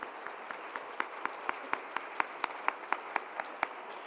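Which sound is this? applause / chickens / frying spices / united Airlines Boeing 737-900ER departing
applause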